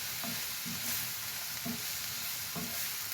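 Egg bhurji with onion and masala sautéed in a pan: a constant sizzle under three or four evenly spaced scrapes of a spoon against the pan, close and alone.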